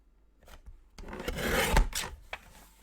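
Cardstock for a large black-and-white Christmas album is cut with a single close, rough rasping slide lasting about a second, followed by a faint short scrape in a quiet room.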